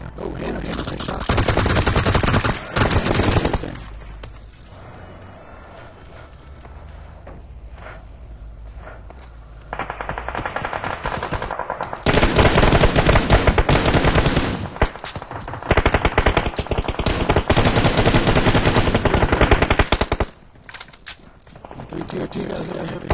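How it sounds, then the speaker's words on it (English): Repeated bursts of gunfire in a competitive video game scrim, rapid automatic fire in several loud volleys separated by shorter pauses, with a commentator talking over the shooting. "Hannah takes shots."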